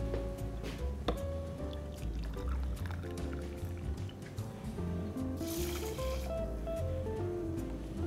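Boiling water poured onto round rice in a pot makes a steady liquid pour that runs throughout, with dense low rumble and clattering under it and a brighter splash in the middle.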